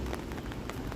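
Rain falls steadily on surfaces during an evening storm in Toronto, a faint, even patter with no talking.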